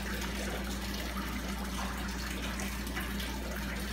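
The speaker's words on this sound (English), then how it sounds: "It's like, sorry, dripping water." Water slowly dripping from a utility line or pipe, a faint steady wet trickle under a constant low hum, with no talking.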